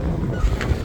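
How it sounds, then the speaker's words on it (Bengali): Strong wind buffeting the microphone beside water on a rural road, a brief burst of low, gusty rumbling thumps with no clear speech. "আপনারা আমার কথা শুনতে পাচ্ছেন কিনা বাতাসের জন্য?"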